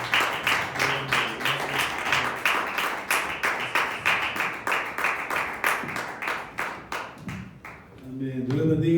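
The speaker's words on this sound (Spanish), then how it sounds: "Vamos a darle un fuerte aplauso a nuestro Señor Jesucristo" A church congregation claps together in steady rhythmic applause for about eight seconds at a Wednesday evening service, loud and close, fading as it winds down and a voice begins speaking near the end.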